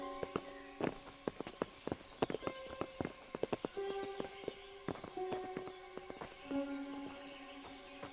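Horses clip-clop at a walk in the Kingdom Come: Deliverance game world, the close hoofbeats irregular and overlapping, with tonal harness or music-like tones ringing behind them and no voices.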